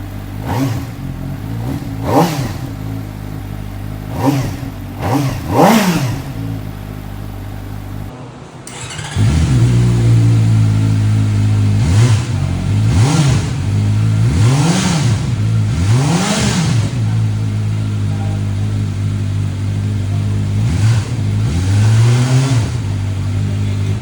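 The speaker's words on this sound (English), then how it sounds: "given this is an inline 4, this is what it sounds like" A CF Moto 500 SR Voom inline-four motorcycle engine idling and then revving repeatedly, each blip rising sharply and falling back, loud and close, with a brief cut partway through.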